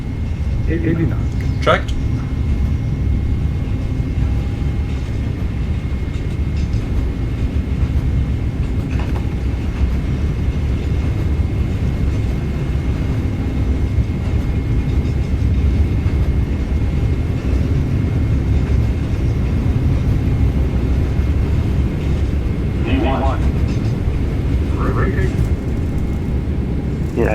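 Boeing 777-300ER engines at takeoff thrust, heard from inside the flight deck as a steady, loud broadband roar with a faint tonal whine, continuous throughout while pilots talk over it and radio calls come through.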